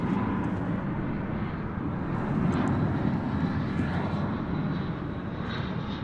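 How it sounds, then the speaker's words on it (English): A United Airbus A319 jet arriving from Denver on approach to the DFW runway after dark, a steady broad engine roar holding loud and even for the whole stretch. "Got a United flight coming in from Denver, an Airbus A319"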